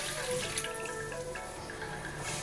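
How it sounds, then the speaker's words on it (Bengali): Water poured into masala frying in a pan for Bengali dahi katla, a soft steady splash and trickle over a low background hiss, close and gentle. "সামান্য জল দিয়ে দিচ্ছি"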